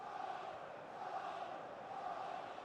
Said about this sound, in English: Well, just listen to the crowd.